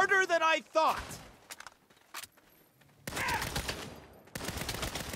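Gunfire in the video game Saints Row: sharp bursts of automatic shots and single cracks scattered through the clip, mixed with a character voice and game effects.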